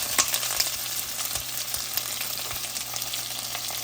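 Onion, dried red chillies, green chillies and garlic fry in hot oil in a pan for ridge gourd chutney, a steady close crackling sizzle with occasional stirring clinks.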